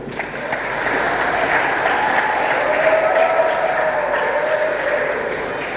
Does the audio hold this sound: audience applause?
yes